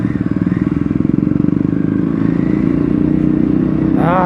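Aprilia RS 457 motorcycle engine revving hard above 3000 RPM, a loud, steady, close-up growl that holds throughout with a brief rising note at the end.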